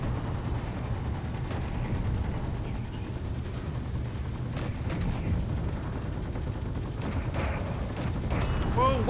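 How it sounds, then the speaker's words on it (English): Gunfire from a scuttler enemy shooting at players in a video game, dense continuous bursts at steady loudness throughout, with players' voices mixed in. "The scuttler is shooting us!"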